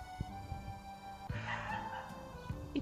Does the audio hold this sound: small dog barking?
yes